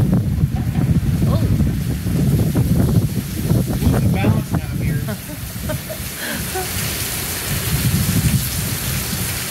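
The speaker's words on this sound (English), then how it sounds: "Wind's blowing this way now." Heavy rain and gusting wind from Hurricane Ian in Sarasota roar steadily and close, with occasional rumbling, while people talk under the storm noise throughout.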